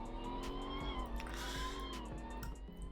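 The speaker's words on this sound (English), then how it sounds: "You can hear that lovely supercharger" A supercharged rear-wheel-drive car in the Roblox game Greenville drives with a steady engine note and a high supercharger whine, with some tire noise and brief clicks, at moderate distance.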